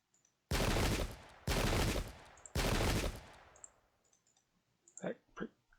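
Three volleys of musket fire in the Pike and Shot video game: each a dense, crackling burst of about a second, evenly spaced, followed by faint scattered clicks as the noise dies away.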